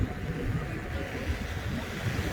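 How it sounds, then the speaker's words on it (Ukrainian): Strong wind roars steadily against the microphone on a waterfront in Bal Harbour, Miami, a low rumbling buffet that rises and falls slightly with no voices. "Вітер великий, ще незручно"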